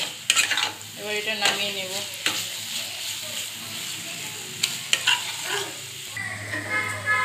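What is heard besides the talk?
stirring cabbage ghanto (Bengali cabbage curry) in a pan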